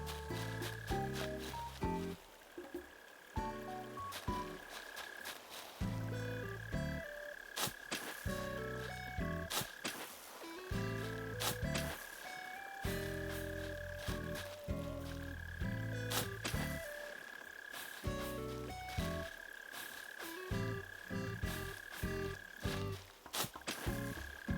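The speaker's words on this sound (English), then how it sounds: "How can you tell where the mole crickets are? Like, I can hear it." Mole cricket trilling from underground in the Animal Crossing video game, a steady chirp set against busy game music with repeated tonal cues throughout.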